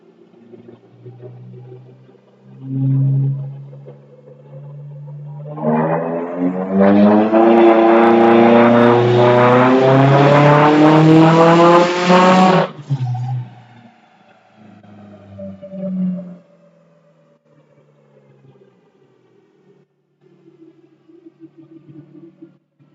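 A built 2007 Subaru STi running E85 revs on a dyno: the engine climbs from idle through a sustained, loud wide-open pull lasting several seconds, then drops back with a brief blip before settling to a quiet idle.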